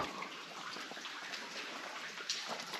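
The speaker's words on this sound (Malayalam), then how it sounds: "ഇപ്പോൾ ആ വെള്ളം വീഴുന്ന ശബ്ദം മാത്രം കേൾക്കുന്നുള്ളൂ" Water falls and splashes continuously inside a cave in New Zealand, a soft, steady wash of dripping and trickling heard alone at low level.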